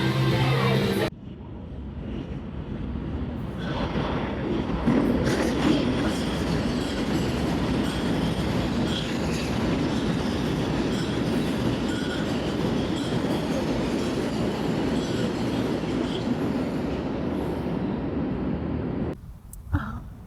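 A subway train rumbles steadily along the tracks in New York with rattling wheels and a metallic squeal, loud and continuous, cutting off abruptly near the end.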